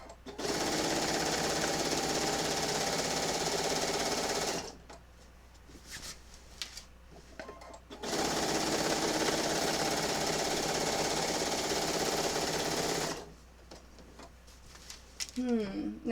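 A sewing machine quilting a quilt runs in two long steady stitching bursts of about four seconds each, with quieter pauses of clicks and handling in between.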